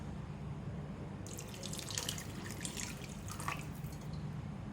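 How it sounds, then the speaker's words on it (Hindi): Water pours from a tap into a pot of soaked basmati rice, beginning after a brief quiet moment as a soft splashing stream that runs for about three seconds before stopping, fairly faint and close, with no voices. "पानी डालूंगी इसमें।"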